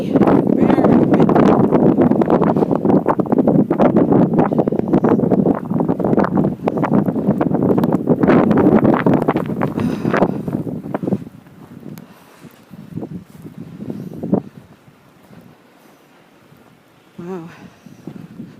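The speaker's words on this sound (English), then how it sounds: "Very windy. Very windy." Strong blizzard wind in Massachusetts roars and buffets the microphone for about eleven seconds, then drops to intermittent lighter gusts and rustling.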